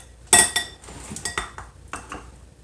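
Dry quinoa is measured into bowls, giving a sharp clink of a utensil or cup against dishware followed by a run of lighter scraping taps and small knocks, close and alone.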